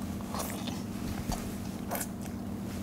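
Someone eats ravioli with mozzarella and basil, soft close-up bites and chewing sounds recurring quietly over a low background hum, with no talking.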